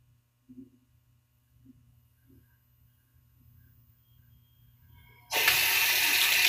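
Bathroom tap turned on to rinse a razor, a few faint clicks and a low hum giving way to a sudden loud, steady rush of running water close by.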